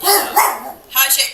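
A pet dog barks and yips a few times close by indoors, mixed in with a person speaking.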